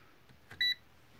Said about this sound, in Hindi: तो ये बीप यानी कि इसमें से करंट पास हो रहा है, ये कंटिन्यूटी इसकी ठीक है।